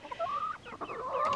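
Black copper marans hens cluck in a run of close, warbling calls that rise and fall without a break, ending in a few sharper squawks.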